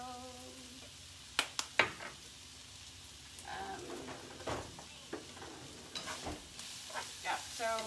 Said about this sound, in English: Yeah, so I'm going to stir it all together.